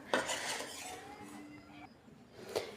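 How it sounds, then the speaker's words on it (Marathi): A spoon mixes jaggery into a cooled modak filling in a pan, with a couple of sharp metal clinks and soft scraping between them, quiet and close, no voices. "थंड मिश्रणामध्येच आपण आता हा गूळ व्यवस्थित मिक्स करून घ्यायचा"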